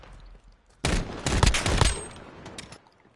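A pistol fires in the video game Modern Warfare, a rapid cluster of sharp, loud shots packed close together for about a second, then trailing into quieter noise.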